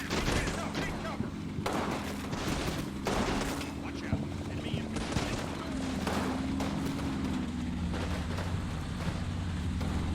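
Machine gun fire in the WW2 video game Combat Mission: Fortress Italy, set in a battle in northern Sicily, with repeated bursts and rattling volleys over a low engine rumble, loud and continuous across the scene.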